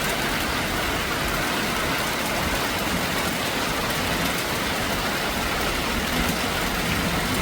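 Steady, dense rain hissing down without a break, close and fairly loud, with no voices.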